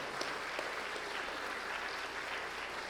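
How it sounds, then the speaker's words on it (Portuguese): Church congregation applauding during an evening service, a steady, even patter of many hands clapping that sounds somewhat distant and quiet, continuing without a break. "Então nós temos que aplaudir, né?"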